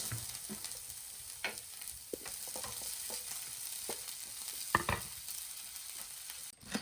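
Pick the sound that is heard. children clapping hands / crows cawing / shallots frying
shallots frying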